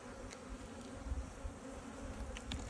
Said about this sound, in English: get that bee out of there